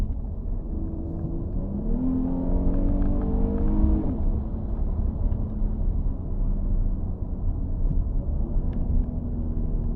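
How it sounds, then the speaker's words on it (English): A 2019 Jeep Cherokee 4x4 with a V6 engine accelerating at night: a steady interior engine drone rises in pitch through a gear change, then settles into a smooth, constant hum over road noise. "It's a glorious engine."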